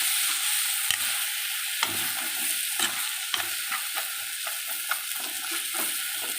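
Masala for a vegetable gravy fries and sizzles in a pan. A loud, continuous sizzle is broken by repeated scraping stirs close to the mic, with nobody speaking.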